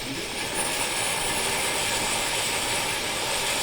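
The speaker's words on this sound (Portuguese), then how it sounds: "quando a gente coloca a panela, o fogo ele vai tender a se lateralizar e vai alcançar a serpentina" A homemade alcohol vapor stove burns under a pot, its flame giving a steady, loud, broadband roaring hiss that holds constant throughout with no talking.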